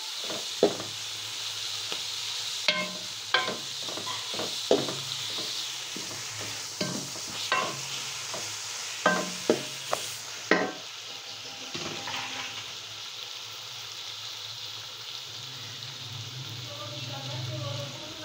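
Shredded cabbage frying in a pan while a spoon stirs it, giving a steady low sizzle punctuated by sharp scraping and clinking taps against the pan, with someone speaking at times.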